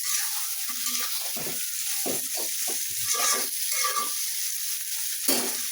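A splash of water added to masala, potatoes and meat frying in a pan brings bursts of loud, close sizzling and stirring scrapes, irregular and uninterrupted by any voice.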